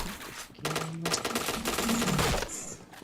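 Gunfire from a shooting video game rattles out in a dense, loud burst lasting a couple of seconds, mixed with electronic tones.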